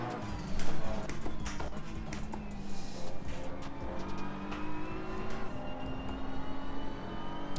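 Race cars in Assetto Corsa Competizione, a McLaren GT3 among them, drone steadily with engine noise as a couple of cars leave the pit lane, a continuous mid-level roar with small swells and no talk.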